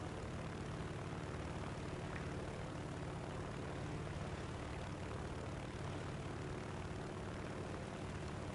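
Steady, loud propeller engine drone of a Bf 109 fighter in War Thunder, a continuous broadband roar that holds even throughout with no pauses.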